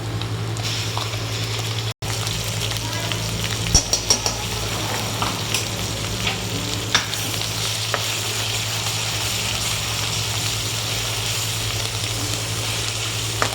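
Curry leaves fry with onion and tomato masala for an eggplant curry, a continuous close sizzle and crackle in the pan with occasional sharp pops and light utensil taps, no voices.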